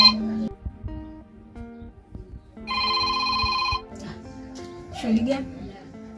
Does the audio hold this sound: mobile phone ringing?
yes